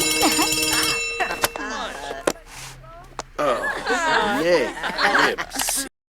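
A school bell in The Sims 4 rings in a bright electronic tone near the start, followed by Simlish chatter and chuckling voices.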